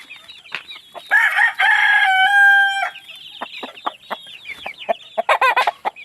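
A prize-winning rooster lets out one loud, close cock-a-doodle-doo, with hens clucking in short bursts before and after it in a backyard chicken pen.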